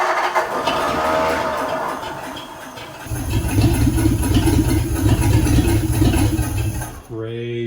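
Flathead V8 in a 1952 Ford Customline Crown Victoria being fuel-primed to start: a rough churning crank gives way to the engine catching and running with a loud, steady low rumble, then cutting off abruptly near the end.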